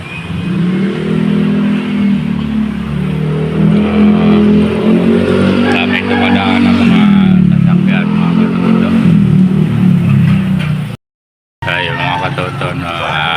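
Motorcycle tricycles idle and rev at a tricycle terminal, a loud, steady engine drone rising and falling under ongoing talk, with a brief drop to silence near the end.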